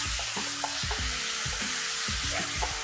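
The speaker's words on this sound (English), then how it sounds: "I'm going to keep actually stir frying the chicken with the paste" Steady hiss of chicken sizzling and being stir-fried with korma paste in a hot pan, with rhythmic background music running throughout.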